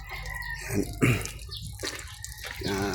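Water splashes and drains onto the cab floor of a Howo tractor head during aircon cleaning, a close, uneven run of wet splattering and dripping with brief louder bursts.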